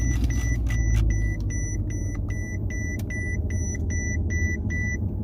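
A car engine starts and settles into a smooth idle after new engine mounts are fitted, a steady low rumble with a regular series of high electronic chimes from the car sounding throughout, no talking.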